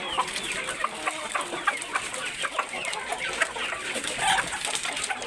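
A flock of laying hens of several breeds clucking and pecking while eating feed on a farm, busy overlapping nearby clucks with scratchy rustling throughout.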